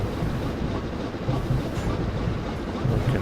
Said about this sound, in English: Nice little shot of the train going.